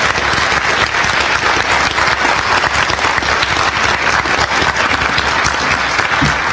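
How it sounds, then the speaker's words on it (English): Loud, continuous applause from a debate audience greets the candidates at a Republican debate in Cannon Falls, Minnesota, holding at full strength throughout with no speech. "Let's give them a round of applause."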